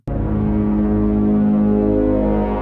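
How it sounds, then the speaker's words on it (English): Low harp strings sent through a Tars fuzz and a JHS octave reverb pedal, giving a thick synth-like droning tone that swells in and sustains loud and even for a few seconds, alone. "I wanna make the low strings of my harp sound like a synth."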